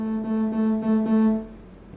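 Synthesizer playing a raw 440 Hz tone with no modulation or filter, a buzzy, harmonic-rich sustained note with slight pulsing, held for about a second and a half before fading out.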